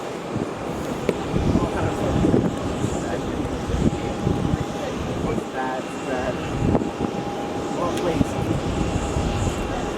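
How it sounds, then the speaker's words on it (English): A Qantas Airbus A330 on short final to land at Melbourne Airport, a steady broad engine roar mixed with wind noise and nearby chatter from spotters. "here is the Qantas A330 on short final"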